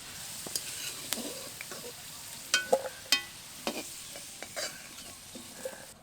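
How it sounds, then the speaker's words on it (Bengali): Potato pieces fry in hot oil in a pan with a low, steady sizzle, while a spatula stirs and scrapes them in scattered clicks and scrapes, a few of them sharper and louder. "আলুগুলো হালকা করে ভেজে নিয়েছি, তুলে নেব"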